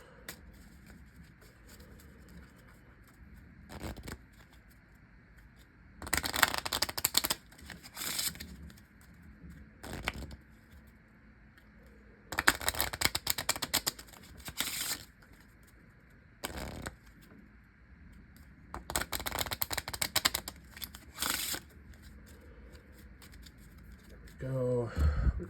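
A deck of playing cards is shuffled in several bursts of crisp riffling and flicking, close to the microphone, separated by quiet pauses during a tabletop card game session.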